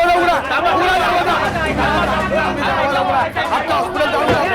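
Agitated crowd gathered outside a hospital, dense overlapping chatter and shouting voices throughout, loud and close, with a steady hubbub of many people talking at once.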